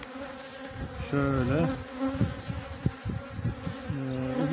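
Honey bees hum steadily around an open hive during an inspection as honey starts to be stored, a continuous drone under a voice speaking briefly in the foreground.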